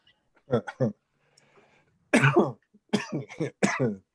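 Several harsh coughs come in pairs and clusters on a Zoom meeting call, close and fairly loud, separated by short quiet gaps with a faint murmur between them.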